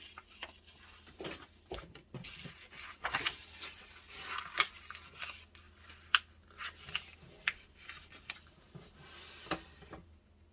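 Paper being torn by hand into a piece for a handmade tag, heard as a series of short, close ripping and crinkling bursts with brief pauses, fairly quiet and without any talk.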